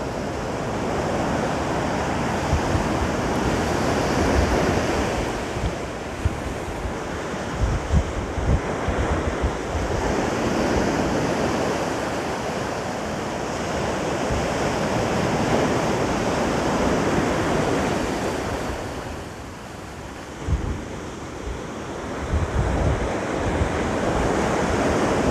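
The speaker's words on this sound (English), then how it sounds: "the waves have gotten stronger over the last few hours, and they're making that beautiful sound" Strong evening ocean surf at Pacifica, near San Francisco, a continuous loud roar of breaking waves with gusts of wind buffeting the microphone, surging and easing throughout with no voices.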